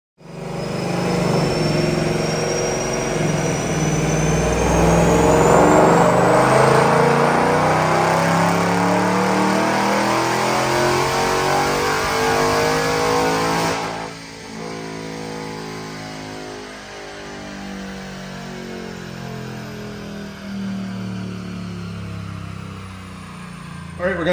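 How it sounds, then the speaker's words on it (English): A 2021 Ford Mustang Mach 1 automatic with stainless headers on a dynamometer, the engine revving up hard through a long climbing pull, then easing off and settling to a lower drone, loud and close. "let's check out this dyno pull"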